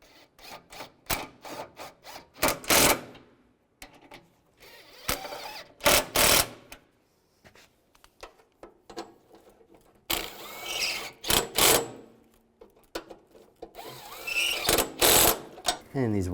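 Ratchet tightening engine mount bolts on a 2006-2011 Cadillac DTS during a hydraulic engine mount replacement: bursts of rapid, close metallic clicking with pauses between them, loud and repeated, with no talk.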